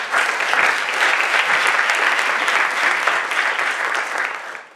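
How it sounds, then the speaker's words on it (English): Sustained audience applause at a 2018 marketplace conference talk, dense and steady throughout before tapering slightly at the end, with no voices over it. "Clap that."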